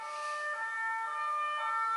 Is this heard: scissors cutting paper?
no